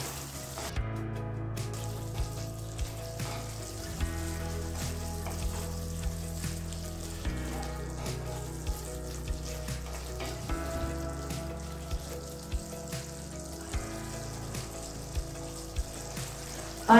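A potato and spinach bhaji simmers in a pan until its water cooks off, making a steady low bubbling sizzle with small periodic ticks and taps, close and continuous.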